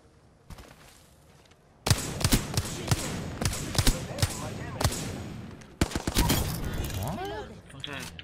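Wingman pistol fire in Apex Legends: a run of sharp, loud single shots at an uneven pace, mixed with other game gunfire and effects, under a busy battle soundscape with voices.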